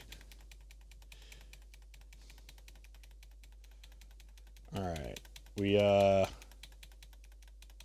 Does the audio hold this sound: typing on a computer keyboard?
yes